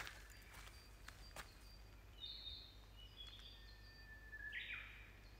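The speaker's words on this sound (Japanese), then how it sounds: "ウグイス。" Outdoors on a walk, a Japanese bush warbler gives faint whistled song phrases over a low steady rumble, with a few soft clicks and footfall-like taps near the start.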